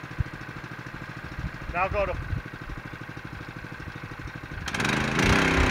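A Keene firefighting pump's small engine runs with the choke half open to warm up, a steady, rapid chugging with a single spoken word, then a louder, rushing surge near the end.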